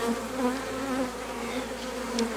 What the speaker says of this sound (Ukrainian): Невже ці бджоли не гарні?